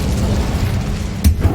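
The Incendio fire spell from the video game Hogwarts Legacy goes off as a short, loud fiery burst and boom over a rumbling in-game background, followed by a smaller thump just after.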